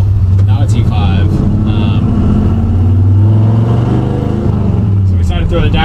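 A 1971 Ford F100 short-bed pickup with a 302 V8 and a Tremec 3550 five-speed drives along, its engine a steady, loud low drone with shifting pitch, heard from inside the cab.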